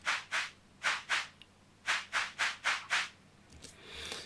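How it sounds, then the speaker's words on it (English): Shaker-style percussion from a South Asian, Indian and Middle Eastern world kit plays a rhythmic pattern of soft, airy swishes, about nine distinct strokes in uneven groups, followed by a quieter rustling tail, with no voices. "So I found this kind of percussion tracks under World, South Asian, Indian and Middle Eastern kit"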